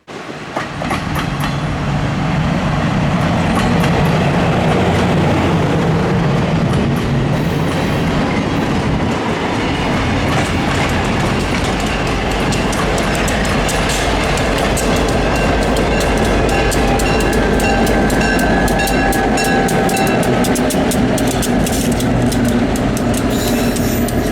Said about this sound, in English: the very last crossing the train goes over before switching directions